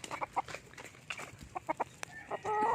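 Large breeder chickens cluck in short, close, scattered bursts, with a brief crow-like call near the end.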